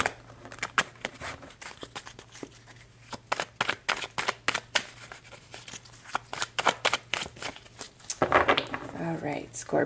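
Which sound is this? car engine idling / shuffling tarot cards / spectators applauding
shuffling tarot cards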